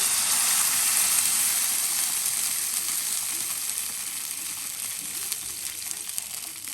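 Water poured into hot oil for upma hisses in a loud, dense sizzle that starts at full strength and eases off slightly over several seconds, with no talk.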